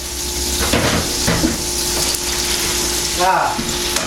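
Venison backstraps frying in a pan, a steady close sizzle with a few clinks of utensils and short bursts of voices over it.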